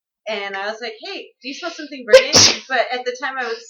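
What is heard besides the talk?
sneeze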